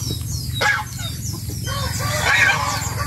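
Chickens cluck and murmur in a steady background, with a few louder squawks rising above the low, continuous farmyard noise.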